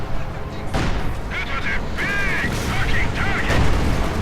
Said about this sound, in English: S-mines going off